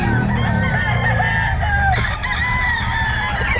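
Early-bird stag roosters at a market crow in loud overlapping bursts close by, layered over a dense background of other fowl calling.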